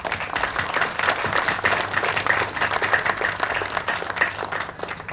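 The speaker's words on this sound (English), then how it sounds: "Please give them a round of applause." Steady applause from a room full of people, moderately loud, continuing for several seconds before thinning out at the end.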